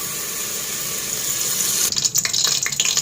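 Cooking oil streams into a pan for chicken dum biryani curry, first a smooth, even hiss, then a closer, splashier gurgle as the pour continues.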